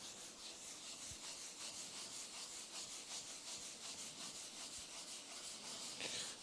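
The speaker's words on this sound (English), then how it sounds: "it's just rubbing around on the top and working its way into the grain" Cotton rag rubbing nitrocellulose lacquer into the wood grain of an already lacquered guitar top, a steady close-up swishing scrub with soft strokes running continuously.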